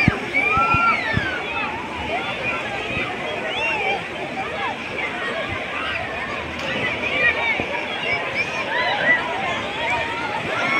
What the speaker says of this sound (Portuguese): Vou mostrar a piscina de ondas pra vocês